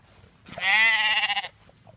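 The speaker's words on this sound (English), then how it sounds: "There's another Jacob sheep." A Jacob sheep on a farm gives one loud, close bleat lasting about a second, standing out clearly over quiet background noise.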